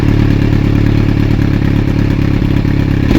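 A 900cc motorcycle engine roars loud and close in a continuous heavy, throbbing drone with a slight mechanical clatter, holding steady throughout without voices.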